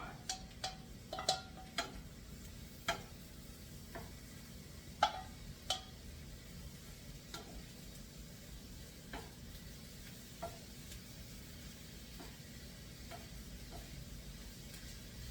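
Mushrooms cooking in a pan, with a soft, steady sizzle under irregular sharp clicks and scrapes of stirring, close by and fairly quiet, with no talking.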